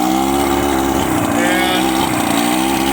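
An old Johnson outboard motor runs steadily while warming up, a loud close buzzing drone with a rough, even pulse and no pauses.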